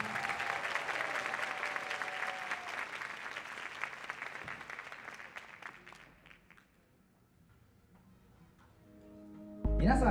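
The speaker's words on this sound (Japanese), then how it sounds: "皆様拍手でお迎えください。" Applause from an audience welcoming a nursery school marching band at a marching competition in Hamamatsu, a dense steady clapping that fades away after about six seconds, leaving near quiet before a louder burst at the very end.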